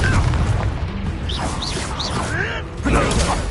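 A spell cast in the Hogwarts Legacy video game during a duel, heard as a burst of magical whooshing and popping effects over a busy battle soundscape with rising tonal swoops.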